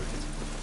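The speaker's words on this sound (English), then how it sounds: "Rain, I like rain." Steady rain falling in the Witcher 3 game world, a dense even wash of droplets with no break over a brief moment and no voices on top.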